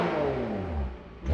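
A Porsche Cayman or Boxster sports car engine revs up close and loud, its rising and falling engine tone swelling again at the end of the short burst.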